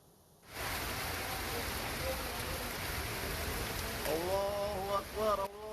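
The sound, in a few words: heavy rain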